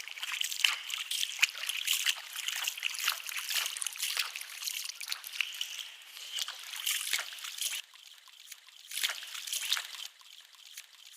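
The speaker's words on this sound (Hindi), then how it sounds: "आप पानी लें और इस तरह पानी डालते जाएँ और खिलाल करते जाएँ" Water trickles and splashes continuously for several seconds, with small irregular sloshes as it is poured over the feet and between the toes during wudu ablution.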